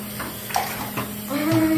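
Running water splashes into a tub as a dog is bathed, a steady close wash of water with brief bumps and a voice heard over it.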